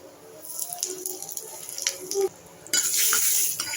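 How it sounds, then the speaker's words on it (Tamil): Mustard and cumin seeds spluttering in hot oil for a Tamil vegetarian lunch, a soft crackling sizzle with scattered pops that swells into a louder, steady fry near the end. "எண்ணெயில் கடுகு சீரகம் போட்டிருக்கேன்."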